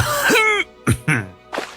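A voice performs a short dry cough followed by a couple of quick throat-clearing grunts, close and distinct.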